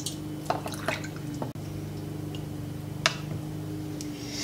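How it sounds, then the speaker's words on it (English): Pickling solution for herring being ladled into glass jars, giving soft drips and small liquid splashes with a few light clinks over a steady low hum, fairly close and quiet, without talk. "I'm just ladling it into the jars."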